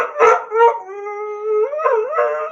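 A dog howls in a long, wavering tone close to the mic, with a couple of short yips before the sustained howl rises and falls again.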